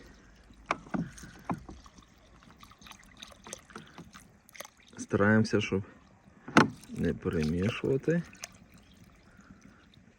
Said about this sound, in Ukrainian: Ось так ми розрівняли рис і заливаємо усе водою.